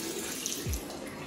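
Water runs from a tap in the restroom of an apartment, a soft steady trickle and splash heard close but quietly, with a brief low thump partway through and no talking.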